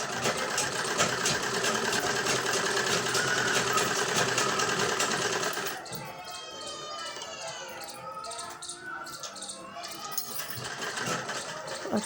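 A sewing machine stitches a salwar pocket, running loud and steady for several seconds, then dropping to a quieter, lighter whir with a voice speaking over it.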